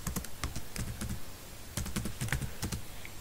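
Keys clatter in short irregular bursts as someone types an SQL select command into a database program on a computer keyboard, close and moderately loud with brief pauses between runs of keystrokes.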